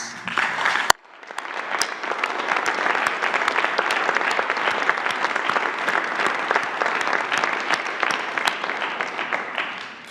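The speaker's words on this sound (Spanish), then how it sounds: "Un aplauso para los migrantes." Crowd applause breaks out in sustained waves after a short pause, steady and fairly loud, holding for several seconds at a government event honouring migrants.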